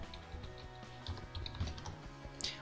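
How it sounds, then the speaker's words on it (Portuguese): Someone typing ipconfig at a command prompt on a computer keyboard, a quick, quiet run of soft key clicks and taps, close and faint, with no talking. "Eu vou digitar um ipconfig."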